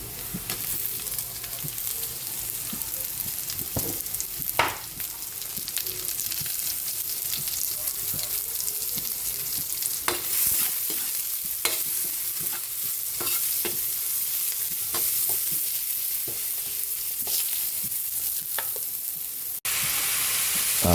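Onions sauté in a pan with a continuous crackling sizzle, while a spoon scrapes and taps against the metal again and again at an uneven pace.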